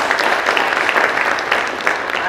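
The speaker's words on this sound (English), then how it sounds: "Just give them a clap." Audience at an academic conference on turning food and agricultural waste into wealth breaks into dense, steady applause that fills the room for the whole stretch, with no pauses.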